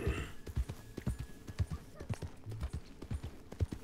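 A horse in the video game Red Dead Redemption clip-clops along at a steady walking rhythm, hooves close and clear, with a brief whinny-like tone and a voice talking over it.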